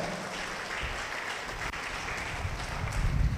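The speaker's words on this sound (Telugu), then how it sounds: "గట్టిగా చప్పట్లు కొట్టండి, గట్టిగా కొట్టాలా." A church congregation clapping loudly together, a dense continuous burst of applause that swells slightly toward the end.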